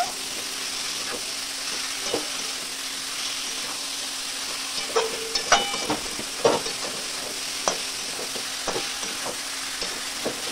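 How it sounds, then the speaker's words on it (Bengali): Cabbage stir-fried in a pan, a low continuous sizzle under scattered clicks and scrapes of a spatula being stirred through the leaves, close and fairly quiet, no voices. "এবার বাঁধাকপিটা আমি দিয়ে দিলাম। বাঁধাকপিটা দিয়ে ভালো করে নেড়ে চেড়ে নেব।"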